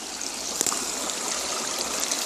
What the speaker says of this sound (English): I want you to hear the creek up here